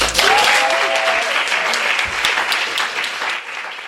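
An audience at a bookstore author reading applauds, a burst of dense clapping that starts loud and gradually thins out over a few seconds, with a brief voice at the start.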